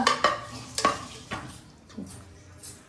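A spoon stirs coarsely ground pepper through a cooking dish, giving several sharp scraping strokes against the pan in the first second and a half, then softer, fainter scrapes with a light sizzle underneath.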